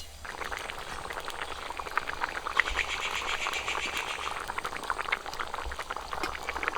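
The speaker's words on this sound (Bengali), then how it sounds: "ঝোলটা ফুটে গেছে" A sea fish curry broth with spinach boils at a steady bubble in a pot, with continuous small pops and gurgles at close range.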